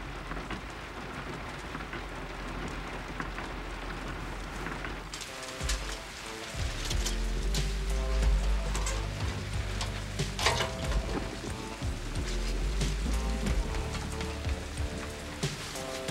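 Steady rain falls throughout, a dense hiss of drops on surfaces. About halfway through, a low rumbling score of music comes in over the downpour.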